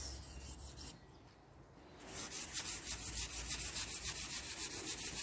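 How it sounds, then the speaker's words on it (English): Soft rhythmic rubbing of a soft foam sanding pad lightly sanding chalk-painted tiles, quiet at first, then a steady back-and-forth rasp with regular strokes about twice a second. "It's a really, really light sand with a soft foam sanding pad."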